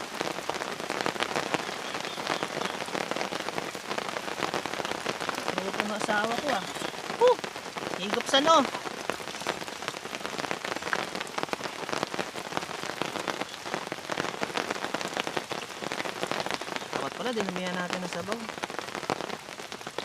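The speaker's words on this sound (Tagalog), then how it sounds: "Umuulan." Steady rain patters on a tent at a motocamping site in Dolores, Quezon, a dense, constant hiss that runs the whole way under people chatting and eating.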